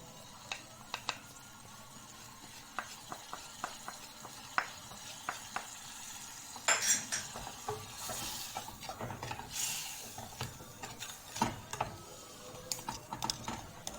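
A spoon scrapes and clacks around a pot of Egyptian koshari sauce with hot chili sauce, giving irregular sharp knocks over a faint simmer, with a louder burst of stirring midway.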